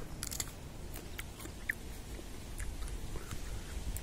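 Close, quiet crunching bites and chewing of a firm jujube (Chinese date) fruit, crisp like an apple, with a few sharp crisp snaps over a soft background hiss.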